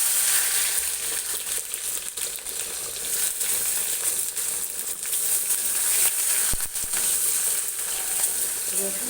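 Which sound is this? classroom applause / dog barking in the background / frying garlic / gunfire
frying garlic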